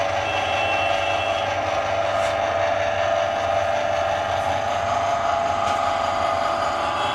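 A tabletop oil extraction machine presses black cumin seeds, giving off a continuous, loud mechanical whir and grind with a steady hum that holds unchanged throughout, close and with no talk.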